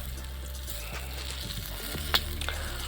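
Whole chili peppers roast in a hot pan at a village cooking fire and get flipped with a ladle, a steady close sizzle with light scraping and a couple of small clinks, no voices.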